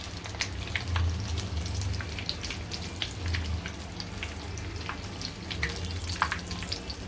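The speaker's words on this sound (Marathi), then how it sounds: "जसे आपण पापड तळतो ना तसे तळायला लागतात झटपट होतात" Thin vegetable pockets, spring-roll style, deep fry in hot oil with a steady close crackling sizzle and scattered sharp pops, with no talking.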